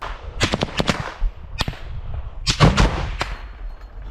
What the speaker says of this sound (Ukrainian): Це ти момент, цей постріл робиш з гранатомета.